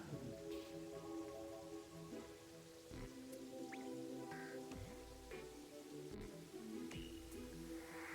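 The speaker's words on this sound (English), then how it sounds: "And it's raining." Rain in the video game Terraria, a steady patter of drops on surfaces throughout with scattered dripping, mixed under game music and effects, no talk.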